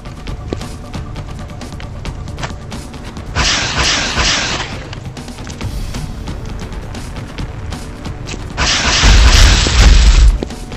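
Heavy weapons fire and explosive booms in the XCOM Enemy Within video game on Android, a training mission, with two loud bursts of blasting and crackle standing out over a steady background of low rumble and mechanical noise.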